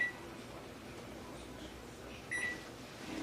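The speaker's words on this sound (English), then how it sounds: "Set the timer." A kitchen timer set while baking brownies gives a short, thin electronic beep late in the clip, heard alone over a low, steady room hum.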